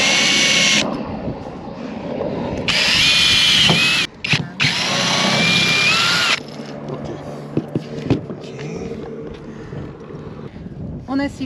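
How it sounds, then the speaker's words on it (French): A power drill bores holes in a panel in two loud, high-pitched bursts with sharp starts and stops, followed by quieter handling noises and knocks, with people talking nearby. "de bien percer les trous sur le panneau"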